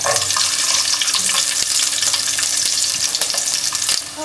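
Whole shallots sizzle in hot coconut oil for a chicken pulao, a dense steady frying hiss close up that runs throughout, with faint scraping clicks and no voices.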